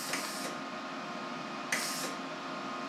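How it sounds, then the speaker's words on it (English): Two short broadband hisses, the first lasting about half a second and the second about a third of a second, as shielding gas bursts from a MIG welder when its trigger is bumped, heard close and clear over a steady low hum. "I'm just gonna bump the trigger. You can hear the gas coming out"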